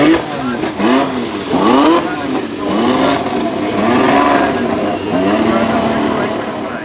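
An Alpine car climbs the hill at the Goodwood Festival of Speed, its engine revving hard through repeated rising gear pulls, loud and fairly close, with a commentator talking over it.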